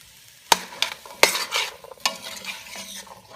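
Rinsed black beans being stirred in a pot on the stove, a spoon scraping and knocking through the wet beans in several distinct strokes over a faint sizzle, close and fairly loud with no talking.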